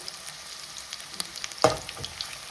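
Vegetables frying in a pan at home for breakfast, a quiet crackling sizzle with one sharper spatter and a stir clink near the end, no voices.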